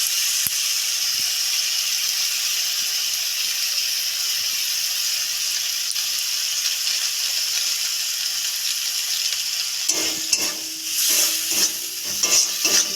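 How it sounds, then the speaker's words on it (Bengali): Maggi noodles with Maggi masala frying in a pan, a steady hiss throughout, with a burst of rattling stirring and scraping in the last few seconds. "দিয়ে ভালো করে একটু ভেজে নেব"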